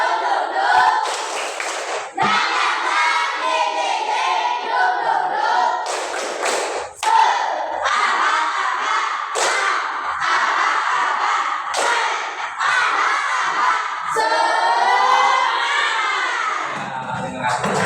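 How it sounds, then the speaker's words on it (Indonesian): A class of pupils claps a rhythmic spirit cheer, loud sharp clap bursts in a patterned sequence, with children's voices chanting and shouting along throughout. "tepuk semangat"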